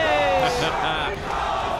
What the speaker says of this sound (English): Crowd trying to get behind Calaway one more time.